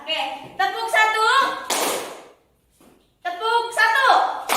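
A classroom of students claps in unison on the teacher's command, a single short burst of many hands in a schoolroom, set between stretches of a woman's spoken instructions.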